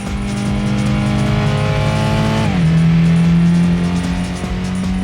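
Race car engine in Gran Turismo 2 revving hard and climbing in pitch, then dropping at a gear change and holding a steady loud drone, close and continuous with no talk.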